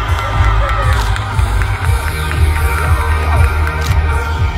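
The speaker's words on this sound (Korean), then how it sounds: "다시 한번 홍익대학교 Z3 팀에게 큰 박수 부탁드립니다" A large crowd at a fashion runway awards event applauds and cheers loudly, with shouts rising over steady clapping throughout.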